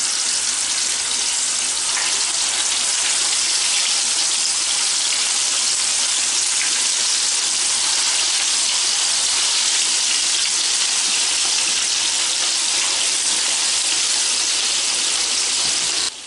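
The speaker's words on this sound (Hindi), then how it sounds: "तो मैं वहाँ मछली ऑयल में फ्राई कर रही हूँ" Fish fries in hot oil in a pan, giving a dense, steady sizzle and crackle that stays loud and even for the whole stretch with no voices over it.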